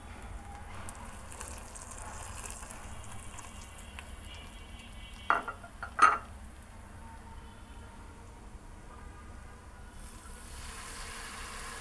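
Baby corn fries in a pan with garam masala, turmeric, chili, coriander and salt, giving a faint, steady low sizzle with two brief louder clinks of a spoon midway.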